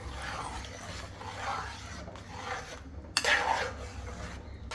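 A spoon stirs ada pradhaman payasam with ghee in a metal pot, repeated scraping and clinking strokes at an easy rhythm, close and moderately quiet.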